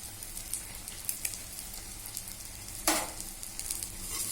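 Fresh curry leaves hit hot egg pepper fry (muttai milagu varuval) with a soft continuous sizzle, light pops, and one sharp louder burst near the end.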